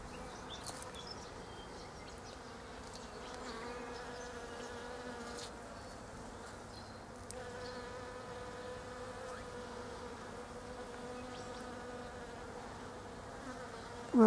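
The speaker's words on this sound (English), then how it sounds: "there's a soft hum of bees and some flies too" Bees and flies humming around flowering Photinia serrulata: a soft, steady insect drone of many wings, continuous and moderately close, with faint birdsong behind.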